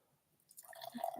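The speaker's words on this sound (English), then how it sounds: "Drinking some Pepsi." Someone takes a quick sip of Pepsi close to the microphone: after a near-silent start, soft wet slurping and liquid gulping sounds build up and grow louder toward the end.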